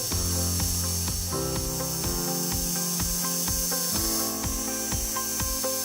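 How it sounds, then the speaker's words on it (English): Metal lathe turning a small threaded insert for a clock barrel hook, a steady loud machine drone with rhythmic ticking and scraping from the cut running throughout, no voices. "So then it was off to the lathe to form that threaded insert."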